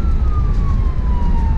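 An ambulance siren on city streets in Acapulco, Mexico, a single steady tone gliding slowly downward, loud and continuous over heavy low traffic rumble, with no voices.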